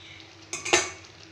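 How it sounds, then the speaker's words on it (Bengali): A spoon stirring curry in a pan after sugar goes in, two short scraping clinks against the metal close by, then a quiet kitchen hum. "চিনিটা দিয়ে নাড়াচাড়া করে একটুখানি জাল হবে তাহলে নামিয়ে নেব।"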